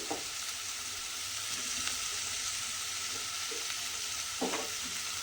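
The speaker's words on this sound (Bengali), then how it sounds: "কুমড়োটা দিয়েও কিন্তু আমি এইভাবে আবারও মিশিয়ে দেব।" Pumpkin pieces stir-fried with bitter gourd in a pan give a steady hissing sizzle, with a few soft scraping stirs over it, close and moderately quiet.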